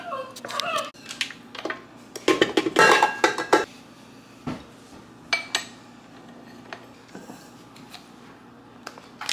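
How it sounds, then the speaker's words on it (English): Hot water and olive oil whisked together in a bowl, giving irregular scraping and clinking of the whisk against the bowl in loud bursts with quieter gaps, close by and without speech. "we're going to whisk that all together"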